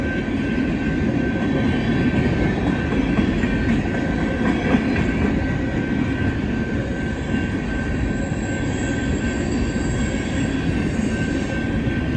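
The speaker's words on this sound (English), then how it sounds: "Looks like it's a mixed company coal train." A fast coal train rumbles past with steady, loud clattering and rolling wheel noise, plus a sustained high whine throughout.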